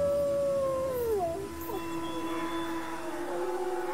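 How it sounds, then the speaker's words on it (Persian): A wolf howls at night in a forest, with long gliding, wavering tones rising and falling clearly over a steady background hiss. "پدر جان بشنم صدای گرگ هست"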